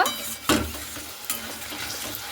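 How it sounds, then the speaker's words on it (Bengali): Potatoes sautéing with spice masala in a pan for a Bengali fish-head curry, a steady sizzle broken by two sharp spatula scrapes against the pan and softer stirring in between. "খুব ভালো মতো করে আলুর সঙ্গে আর মশলার সঙ্গে এইভাবে আমি কষতে নেব"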